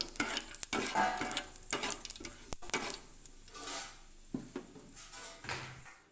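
Whole spices like cinnamon, cloves and cardamom fry in hot oil in a kadai, a soft sizzle broken by a spoon scraping and clinking against the pan, close and without talk.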